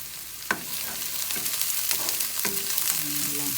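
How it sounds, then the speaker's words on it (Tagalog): Garlic and white onion sizzle steadily in a hot pan, with scattered clinks and scrapes of stirring over the frying hiss. No one speaks. "Sabay ko na po yung bawang. Ang bango. Isunod ang sibuyas o ito pong white onion."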